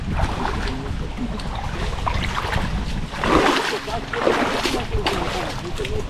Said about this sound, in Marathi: तर आता आम्ही व्हाळातनं चाललोय, व्हाळाचं पाणी त्यातनं मच्छी असा ना